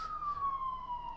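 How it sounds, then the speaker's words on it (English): An emergency vehicle siren sweeps past as a single steady, slowly falling wail, fairly close and continuous over a quiet background rumble. "got a siren going past me this side."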